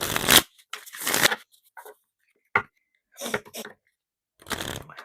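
Tarot cards being shuffled in several quick bursts of papery riffling, each about half a second long and separated by silences, close and fairly loud.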